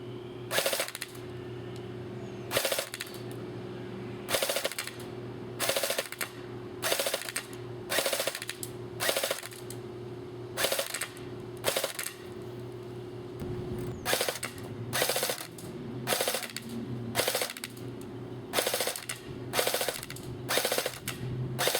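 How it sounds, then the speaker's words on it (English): AGM MP008 M14 airsoft AEG firing short full-auto bursts, a rapid mechanical rattling buzz in about a dozen evenly spaced bursts with a steady motor hum between them, close and loud. "I'm going to fire at full auto on the thing, just for a few bursts"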